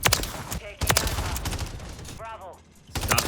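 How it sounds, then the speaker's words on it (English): A remote turret in a first-person shooter video game fires bursts of rapid automatic gunfire, loud and close, broken by short pauses, with a brief voice over the game sound. "All right, I'm setting down this remote turret."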